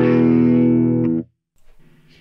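Distorted metal guitar through a GTRS GCA5 mini amplifier's preamp with the cabinet switched off: a loud, buzzy sustained chord rings for about a second, cuts off sharply, then a few quieter picked notes follow, with no speech.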